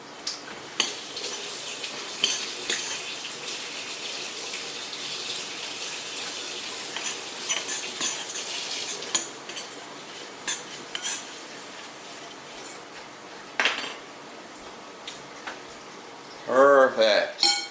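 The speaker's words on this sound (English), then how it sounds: "Get a spoon and mix it around." A spoon scrapes and clinks against a bowl while stirring a peanut butter raisin granola mixture, with irregular close taps and rattles, one louder clatter near the end, and faint talk in places.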